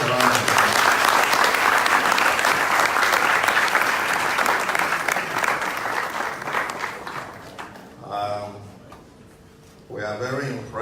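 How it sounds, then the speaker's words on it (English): Loud, dense audience applause welcomes Omoyele Sowore, presidential candidate for the African Action Congress, at Benson Idahosa University, fading after about eight seconds into quieter pauses with a brief final burst of clapping. "Please give him a round of applause."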